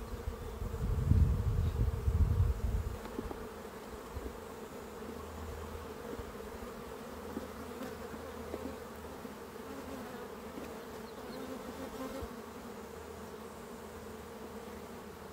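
Honeybees drone at an open beehive during a nectar flow, with a loud, close buzz at first settling into a steady, softer hum that continues throughout, with no talking.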